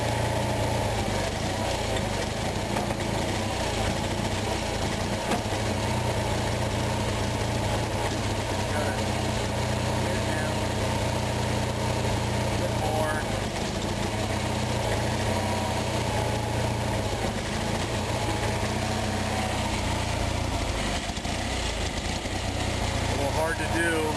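An Onan engine runs steadily under carburetor adjustment, a continuous loud low rumble with a few faint uneven stumbles from light backfiring; a voice talks over it now and then.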